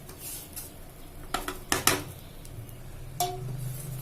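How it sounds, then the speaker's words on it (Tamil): Vermicelli (semiya) roasting in ghee in a pan for payasam, heard as a soft background sizzle with several sharp clinks of a spoon against the pan, all without talk. "நெய்யில் ஒரு 2லேருந்து 3 நிமிஷம் வரைக்கும் நல்லா வறுத்து எடுத்துக்கிறேன்"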